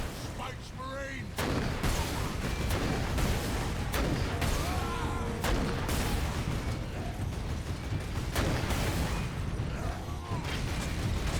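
Vengeance launcher fire in Warhammer 40K Space Marine: loud, repeated booming blasts and mechanical clanks in quick succession, thick with battle noise and layered game sounds throughout.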